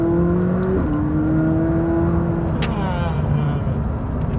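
A McLaren 600LT's engine holds a steady rev around 3,000 rpm with a smooth rising whine, loud and close, with brief voices in the background.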